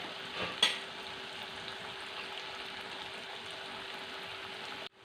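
Mango pieces deep-fry in oil for an oil-based mango pickle, producing a steady, even bubbling hiss with one brief clatter near the start before it cuts off abruptly.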